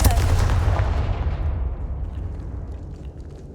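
Confringo fire spell blast in the video game Hogwarts Legacy, a loud booming explosion with a deep rumbling tail that decays over a few seconds, no talking.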